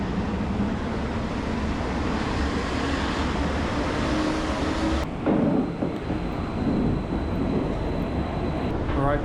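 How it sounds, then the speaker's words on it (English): An Athens metro subway train rumbling loudly and steadily from start to finish, a dense roar of wheels and motors on the rails with a brief shift in tone midway, heard from on board. "that was the subway"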